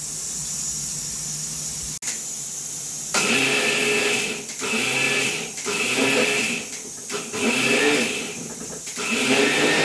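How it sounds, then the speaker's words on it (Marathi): An electric mixer grinder churning soaked rice into a coarse paste: a brief click, then a loud, high whining motor running in several bursts with short pauses between them. "तर ते मी ते मिक्सरला वाटून घेणार आहे"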